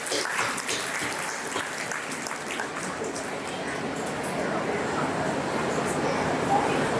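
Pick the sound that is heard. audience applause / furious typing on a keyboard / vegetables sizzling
audience applause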